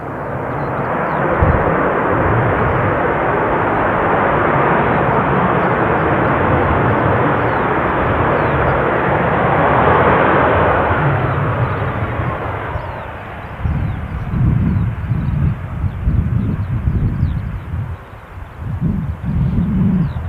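An airliner landing at Newcastle airport, a loud broad engine roar that swells and then breaks into gusty rumbling as it rolls out, with wind buffeting the microphone.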